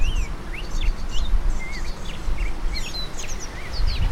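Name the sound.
lesser goldfinches chirping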